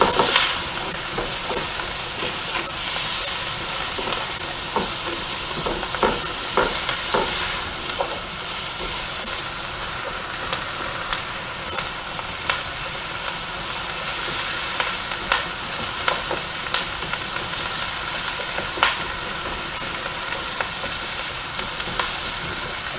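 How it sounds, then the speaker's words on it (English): Onions for smothered pork chops sauté in a pan with a loud, constant hissing sizzle, close up and steady throughout, dotted with frequent small pops and crackles, and no voices. "So just saute the onions for a few minutes until they get translucent."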